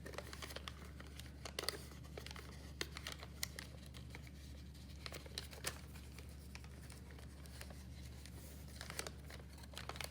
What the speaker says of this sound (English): You're just gonna fold the envelope down like that.